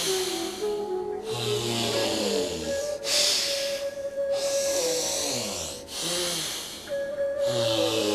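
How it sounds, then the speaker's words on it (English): Slow alternate nostril breathing in a pranayama exercise, long airy inhales and exhales in a steady rhythm under sustained background music tones. "Close the left nostril and exhale through the right."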